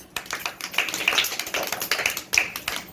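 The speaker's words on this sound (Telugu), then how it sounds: "అజిత్కి క్లాప్స్." Children clap in a classroom for a boy named Ajith, a scattered run of light, quick palm taps of moderate loudness lasting a few seconds with no talking over them.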